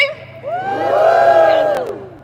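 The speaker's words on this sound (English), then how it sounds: "Give me a woo." A large crowd at a clean water march in London lets out a loud, sustained whoop that swells and rises together for about two seconds before trailing off.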